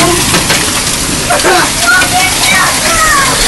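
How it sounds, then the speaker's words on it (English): Hail pouring down in a storm in Norfolk, Nebraska, piling up and running like a river: a dense, steady, loud rushing wash with scattered brighter clatters throughout, and faint sounds over it. "Look at that freaking hail river."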